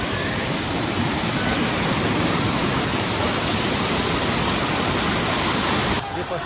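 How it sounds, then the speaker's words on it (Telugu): Rampa waterfall, the first of two falls, roaring as a dense, constant wash of falling water close by, unbroken throughout before easing slightly at the end. "ఇది ఫస్ట్ వాటర్ ఫాల్."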